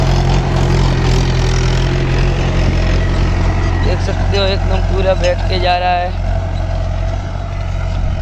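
A Mahindra 575 DI tractor pulls a chisel plow through a field, its diesel engine droning steadily and loudly up close while someone talks over it.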